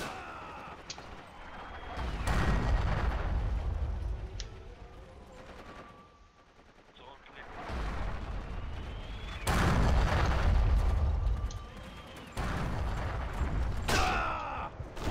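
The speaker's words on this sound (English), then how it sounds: "Annoying mortar." Mortar fire in Forgotten Hope 2 lands as several loud, heavy booms and blasts spaced across the span, separated by quieter lulls, with scattered gunfire crackling around them.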